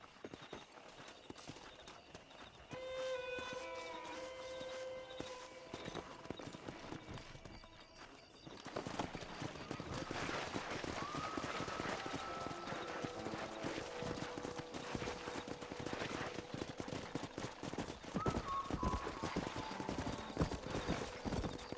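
Steady hoof clip-clops at a walking then trotting pace, with occasional horse whinnies and neighs over a continuous outdoor background, in the video game Red Dead Redemption.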